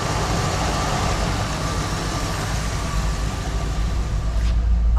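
A 1974 Ford Bronco engine idles steadily after its first start in 16 years, giving a constant low rumble that stays even and close throughout with no talking.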